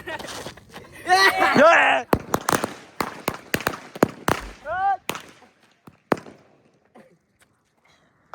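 Firecrackers bursting during Diwali in a rapid, uneven series of sharp, loud, close bangs, mixed at first with shouting voices and trailing off into scattered pops.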